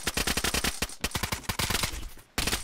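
Rapid gunfire in the survival video game DayZ, a loud, dense burst of shots cracking in quick succession for over two seconds, briefly pausing before resuming, with no talking.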